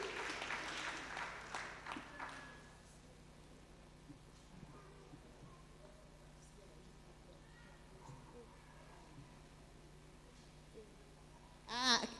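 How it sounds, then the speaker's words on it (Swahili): A church congregation at a Kikuyu Sunday School service claps in a burst of applause mixed with crowd chatter, fading into quieter murmuring and voices before a brief high sound at the end. "tumpigie makofi"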